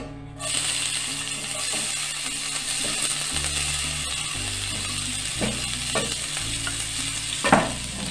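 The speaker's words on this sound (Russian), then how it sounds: "Добавляю в это же масло нарезанный репчатый лук." Chopped onion sizzles in hot oil in a pan while being stirred, a steady crackling fry with occasional scraping knocks from the spoon, set against quiet background music.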